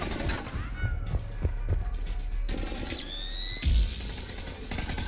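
A firefight in the video game Mass Effect 3, with rapid bursts of weapon fire and mechanical clatter, a rising electronic whine and a heavy thud near the end, mixed with voices talking.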